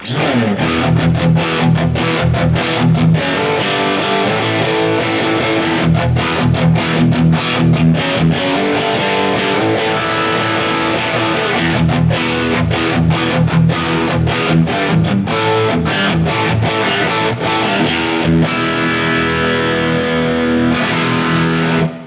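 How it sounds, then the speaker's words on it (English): Clean electric guitar through a Plexi amp model, with no pedal, plays chunky, rhythmic riffs and chords nonstop for over twenty seconds, gritty and loud, with no talking. "So in front of this Plexi amp model, which I'll play clean, or without the pedal,"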